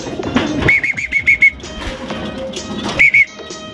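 Pigeons nearby with quick fluttering wingbeats and soft chirpy calls in two short bursts, over a busy rustling background.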